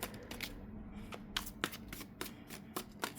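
Tarot cards shuffled by hand in a run of crisp, rapid riffles and slaps with short pauses between bursts, close and moderately loud.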